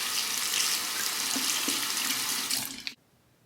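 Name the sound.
water running from tap while rinsing a razor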